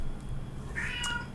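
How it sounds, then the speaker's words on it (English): An elderly pet cat lets out a single drawn-out meow, close and fairly quiet, over a low steady room hum with no talking. "Oh, that's my cat."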